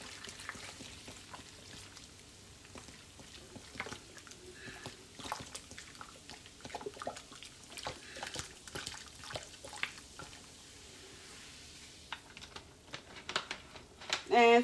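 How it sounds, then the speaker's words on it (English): Coca-Cola being poured into a wok over browned chicken, a faint, quiet stream with light sizzling and scattered clicks and taps, ending in a short louder clatter. "Okay, now you have your chicken brown. Do not remove it from the pan. You're going to pour your Coca-Cola in."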